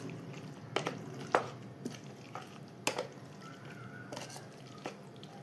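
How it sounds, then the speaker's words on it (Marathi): Chicken biryani marinade of yogurt and salt is mixed in a bowl, giving soft wet squelches and a few sharp clinks of a spoon against the bowl at irregular intervals, quiet and close. "हे आपण एकजीव करणार आहे, चांगलं हलवून घेणार आहे"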